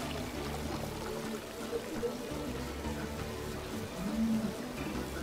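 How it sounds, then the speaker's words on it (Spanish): Water being poured in the co-op game It Takes Two, a soft steady flow that swells near the end, heard under ongoing talk and game sounds. "tengo que echarle agua a esta"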